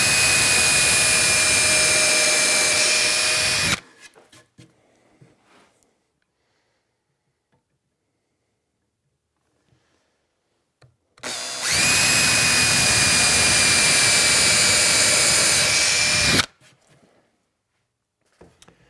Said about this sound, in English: I'm going to drill my 5/32 inch hole all the way through the top piece and into the plywood underneath